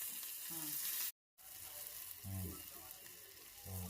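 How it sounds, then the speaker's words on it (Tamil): Onions and tomatoes sauté in a pan for a Tamil prawn thokku, a soft hissing sizzle with brief stirring scrapes, cut by a short gap of silence, faint and close. "பொன்னிறமாக வதங்கினதுக்கப்புறம் நறுக்கி வச்ச தக்காளி, கொத்தமல்லி இதெல்லாம் சேர்த்து வதக்கிக்கணும்"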